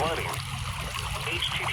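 Floodwater about three inches deep flowing and splashing around someone wading through it outdoors, a steady broadband rush with low churning, loud and continuous for under two seconds.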